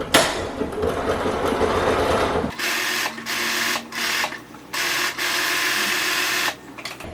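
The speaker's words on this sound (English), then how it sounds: "I'm just going back stitch the zigzag down until I hit the other pin." Sewing machine back-stitching a zigzag seam on an open-weave caftan cover-up, with a dense run first, then several short bursts separated by brief pauses, close and fairly loud.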